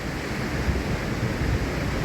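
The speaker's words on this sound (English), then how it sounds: "It's beginning to gust in here now" Wind gusting through a woodland shelter, a steady broadband roar with slight surges that fills the whole moment, close to the microphone and unbroken by voices.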